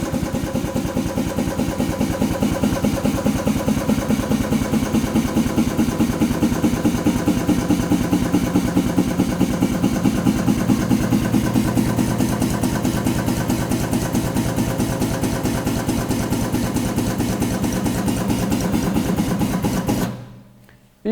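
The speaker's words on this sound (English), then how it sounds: "To lift the drum, we press the lift button on the rear panel." An air-powered pneumatic-hydraulic drum tipper lifting a drum, its pump hammering in a steady, loud rapid pulse for about twenty seconds before cutting off abruptly.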